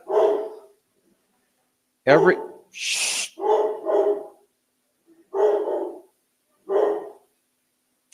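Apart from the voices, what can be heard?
dog barking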